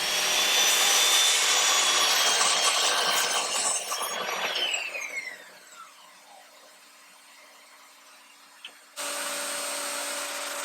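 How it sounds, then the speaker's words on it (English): A miter saw slices through lumber in a workshop, a loud broadband cut that whines down as the blade spins to a stop, followed by a quieter hum. "Then I headed over to the miter saw"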